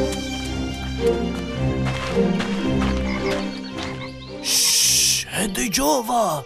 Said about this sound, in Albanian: Ti dëgjove, bretkosa.